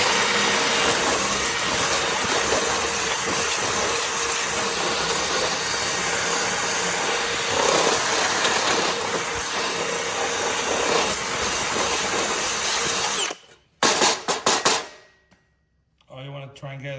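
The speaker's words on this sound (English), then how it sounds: "All right, so run the drill down." A cordless power drill with a wire brush grinds and scrubs loudly and continuously against the bottom of a metal tank for a long stretch, then cuts out abruptly, followed by a few brief bursts and a short pause.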